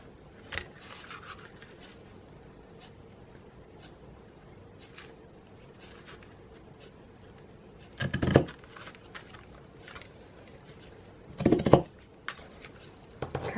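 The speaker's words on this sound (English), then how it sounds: "now I can trim off my burlap ends here" Scissors trimming loose burlap ends on a holiday craft project, two short crisp snipping bursts close up against faint rustling of fabric and quiet background.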